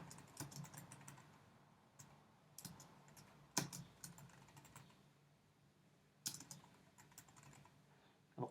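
Fingers type a website name on a computer keyboard, with light rapid key clicks and several louder taps, close and quiet with no talking.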